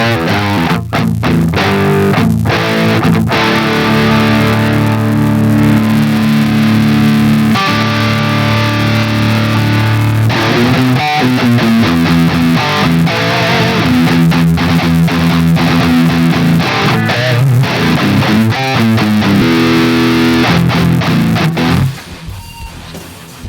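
A loud, heavily distorted electric guitar through an amp simulator with reverb off plays gritty chords and riffs with sustained crunchy tone, continuing steadily before cutting off abruptly near the end.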